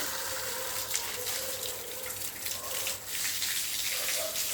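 Water flows steadily over ground while plants are watered, a continuous broad rushing wash that stays fairly even throughout.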